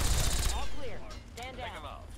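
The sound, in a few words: gunfire shooting enemies in the video game Fallout 3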